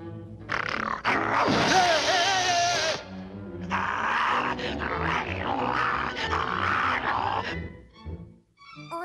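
A dog growls and barks in gruff, loud bursts, with a rough snarling stretch partway through, fading out at the end.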